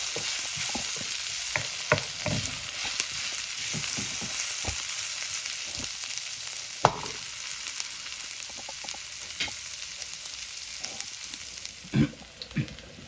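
Onions sizzle steadily in a hot pan, with scattered scraping and tapping as a spoon stirs them now and then.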